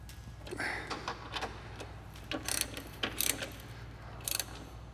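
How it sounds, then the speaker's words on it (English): A ratchet with a 13 mm socket tightens brackets on an S550 Mustang GT350 suspension, giving short, quiet bursts of rapid clicking separated by brief pauses, fairly faint against a low background hum. "Go ahead and grab your 13 millimeter socket."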